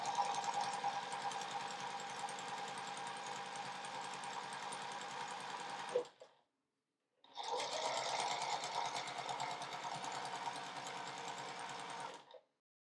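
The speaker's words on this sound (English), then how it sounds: "I'm just going to sew a 1/4 inch seam across the edge" Sewing machine stitching a quarter-inch seam along the edge of quilt block fabric, a steady loud mechanical whir running for about six seconds, a brief pause, then a second six-second run, with no voices.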